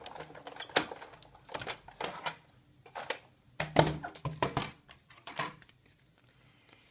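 A die-cutting machine runs an embossing folder with cardstock inside, giving a series of close, irregular clunks and ratchety knocks in uneven bursts, quiet between them and stopping near the end.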